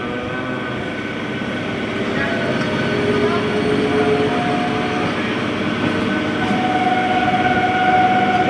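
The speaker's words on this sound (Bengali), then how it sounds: "এটা এসি এসি এসি লোকাল" An air-conditioned Kolkata local train rolls past close by with a continuous heavy rumble and faint clickety-clack of wheels, growing slightly louder over several seconds.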